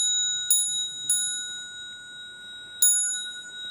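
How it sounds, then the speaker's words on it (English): A small bell rings at the close of a Buddhist lecture on the Avatamsaka Sutra, struck three times: two quick clear strikes followed by a later third, each leaving a bright sustained ringing tone over quiet room noise. "I'll ring the bell here."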